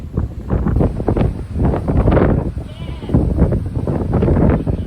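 Strong mountain wind gusting and buffeting loudly across the microphone high on Longs Peak, a continuous roaring rush with throbbing surges and no speech.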